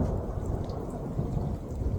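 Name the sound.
rain falling during a storm, with thunder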